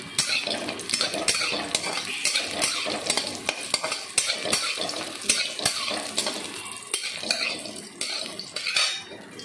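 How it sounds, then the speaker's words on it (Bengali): Bori lentil dumplings fry in a pan, a steady hiss broken by repeated clinks and scrapes of a utensil stirring against the metal, close and fairly loud throughout. "বড়িগুলো ভেজে নেব।"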